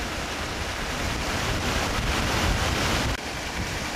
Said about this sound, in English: Paddle wheels aerate the water.